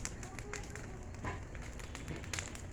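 A São João festival bonfire burns in a neighbourhood street with dense, steady crackling and rushing flame noise, heard outdoors at a low level with faint background activity.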